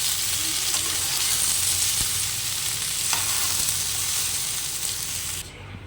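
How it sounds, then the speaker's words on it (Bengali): Mixed vegetables with a little turmeric fry in a pan with a continuous bright sizzle and hiss, close and steady, with occasional stirring scrapes and a few soft knocks before it quiets near the end. "ও সামান্য একটু হলুদ দিয়ে ভালো করে সবজিটাকে একটু ভেজে নেব"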